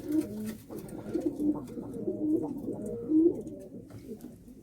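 Pigeons coo up close in a loft, giving a run of soft, throaty, rolling calls that repeat in an uneven rhythm over a quiet background.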